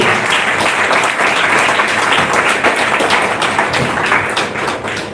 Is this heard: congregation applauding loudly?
yes